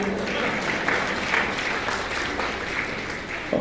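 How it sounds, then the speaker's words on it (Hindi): Audience applause after a poem at a Rotary and Inner Wheel club event for Doctors' and CA Day in Dhamtari, a sustained crowd clapping with a few sharper claps near the end. "कविता खत्म हो गई, अब ताली बजा सकते हो।"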